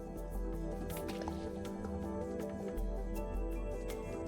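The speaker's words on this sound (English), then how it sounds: "Stream of water." Water stream attack effect in the video game ZAGS: soft, quiet dripping and squishing liquid splashes repeating over a steady tonal music bed.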